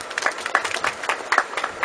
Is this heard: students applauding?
yes